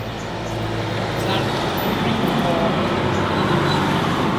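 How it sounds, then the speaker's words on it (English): Continuous roadway noise from passing cars, a steady broadband rush with no gaps, fairly loud and close. "let's wait for the cars"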